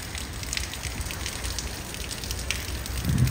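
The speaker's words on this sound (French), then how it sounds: "Il pleut grave." Heavy rain hisses steadily, a dense wash of drops pattering on surfaces, close and constant.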